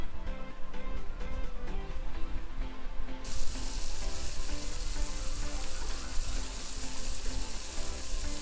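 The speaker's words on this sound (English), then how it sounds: "Just let the veggies cook in that rendered fat" Freshly boiled peas and corn kernels fry in rendered fat in a pan for a frittata, giving a steady close sizzle with light crackle that brightens partway through.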